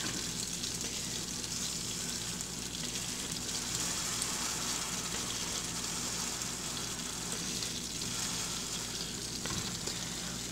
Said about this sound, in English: Watch that sizzle.